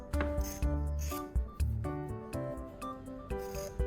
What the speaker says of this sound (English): I carefully trim away the excess rubber around it to get a clean,